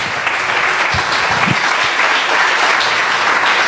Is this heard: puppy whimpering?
no